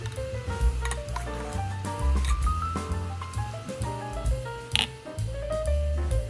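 Idli batter is poured into stacked metal idli molds, with a scattered run of light clinks and taps of the molds plus soft wet pouring sounds, close and fairly quiet, with no talking.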